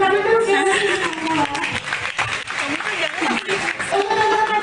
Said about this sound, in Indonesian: Tapi boleh kasih tepuk tangan dong siapa sih?